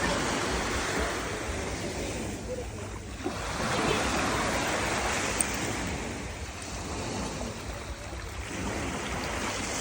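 Sea waves break on a sunny shore in a continuous surf wash that swells and eases in slow surges, moderately loud, with wind noise and no clear speech.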